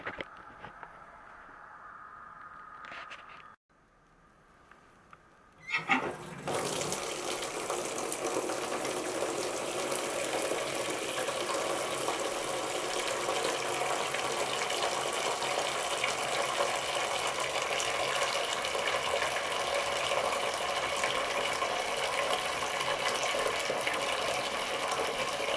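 Water pours into a waxed canvas bushcraft bag: a few quiet moments and a brief knock, then a steady, continuous splashing gush that runs on for about twenty seconds.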